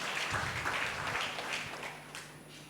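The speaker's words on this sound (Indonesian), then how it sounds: "Berikan tepuk tangan ya Tuhan kita." Church congregation applauding during a service, a steady broadband patter of many hands clapping throughout, moderately loud and fairly close, with no talk over it.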